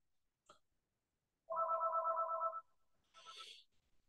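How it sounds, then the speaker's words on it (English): A telephone rings once indoors, a clear buzzing electronic trill lasting about a second, faint and set apart from a couple of small clicks and a brief hiss that come before and after it. "And the phone rings again."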